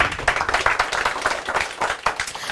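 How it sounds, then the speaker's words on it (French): An audience at a press conference claps in a steady burst of applause, a dense patter of hands lasting throughout at moderate loudness, with no talk over it. "applaudissez pour ce monsieur qui nous a offert ce local"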